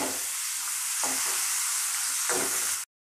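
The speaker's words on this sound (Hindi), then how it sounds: "प्याज को हम लोग थोड़ा सा इसका कलर चेंज होने तक फ्राई करते रहेंगे" Onions frying in oil toward a golden colour, a continuous close sizzle with a couple of soft stirring scrapes, steady and alone until it cuts off abruptly near the end.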